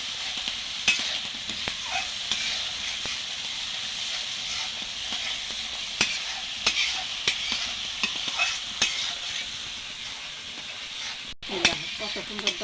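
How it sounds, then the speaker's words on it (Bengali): Spice paste stir-fries in oil for a pumpkin seed dish, a steady close sizzle with repeated sharp spatula clicks and scrapes throughout, no talk. "এই দেখো প্রায় মশলা কষা হয়ে গেছে।"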